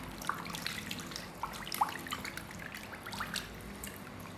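Salmon being rinsed under running water from a kitchen tap, a soft steady trickle with scattered drips and splashes, fairly faint and heard without talk.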